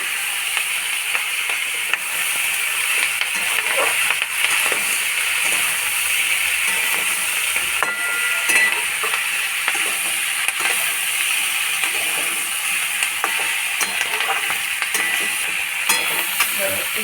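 Mixed vegetables sauté in a pan with coriander, a continuous loud sizzle layered with frequent small scrapes and knocks of stirring, close and steady for the whole stretch, without speech.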